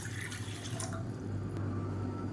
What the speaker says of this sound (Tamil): இதில் வந்து நல்லா 150 ml அளவுக்கு தண்ணி சேர்த்துக்கலாம்.